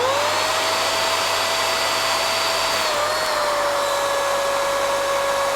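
A Blo Air S car dryer blower runs steadily with a loud, whining motor hum and rushing air, its pitch dropping slightly midway as the setting changes.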